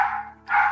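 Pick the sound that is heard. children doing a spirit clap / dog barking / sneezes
dog barking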